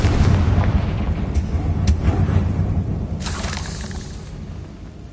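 A Confringo blasting spell detonates in Hogwarts Legacy, a loud, rumbling explosion with a heavy low-end roar that slowly decays, crackling debris bursts scattered through the tail.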